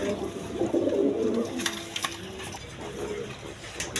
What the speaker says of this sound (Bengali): দর্শকবৃন্দ এখানে এক পেয়ার রাজগোল্লা কবুতর আছে